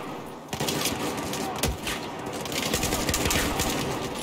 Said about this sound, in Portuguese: Cadê os caras me atirando?